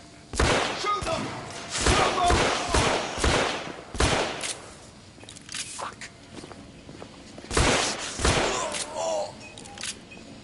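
Gunfire in The Order: 1886, sharp broadband shots in irregular clusters across the clip, loud and close, with thuds and movement between bursts.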